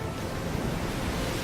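The Pokémon move Surf in Pokémon Let's Go Pikachu plays as a dense, rushing wave-like whoosh, loud and steady for a brief moment.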